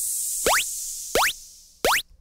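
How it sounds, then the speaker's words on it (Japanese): Synth sound effect from the Solaboy soft synth placed on the offbeats of a chiptune track: three separate quick rising zaps, each a bright sweeping plop, evenly spaced over a fading noise wash. "シンセの効果音は裏拍に入れてます。"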